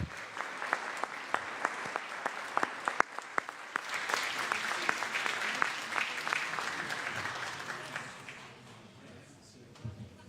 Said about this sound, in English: let's give them a round of applause, please, for their great work.